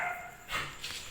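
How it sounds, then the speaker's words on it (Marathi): A dog gives a couple of short, fairly faint barks outdoors during a family picnic, each one brief with a quiet gap between. "कुत्र्यांची गँग आली."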